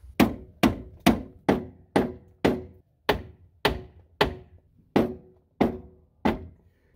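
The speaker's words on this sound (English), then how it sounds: "Starting to think I probably shouldn't be hammering on those things." Twelve heavy hammer blows strike the suspension parts and K-frame of a 1975 Plymouth Valiant in a steady rhythm, each a dull thunk with a short ringing decay, close and loud with no talking.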